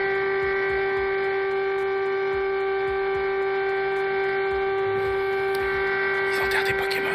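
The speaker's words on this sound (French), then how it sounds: "vous entendez ces sirènes" Sirens sound during a minute of silence as a steady held tone with a constant hum underneath, playing back from a recording, with faint noises near the end.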